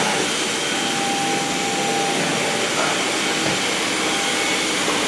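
A Samsung Jet Light VS70 cordless vacuum cleaner runs steadily and close, with a constant broadband whooshing whine and no voices over it.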